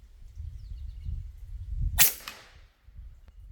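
A Rattler 357 air gun fires a single sharp, loud crack over a low rumbling background, with a short decaying tail afterward.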